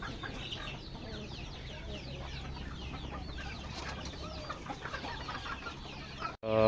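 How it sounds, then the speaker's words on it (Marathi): Farm birds, guinea fowl among chickens, calling with busy overlapping clucks and chatter at moderate distance over steady outdoor background, ending in a sudden loud close noise. "फार्मवर आणलेले गिनी फॉल"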